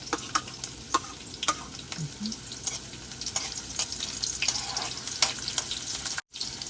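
Onions sautéing in a hot pan for ginisang talong, with a faint steady sizzle under regular light tapping and scraping stir strokes, heard somewhat distant.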